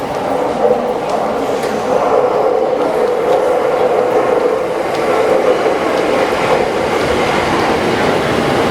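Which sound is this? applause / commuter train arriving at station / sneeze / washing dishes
commuter train arriving at station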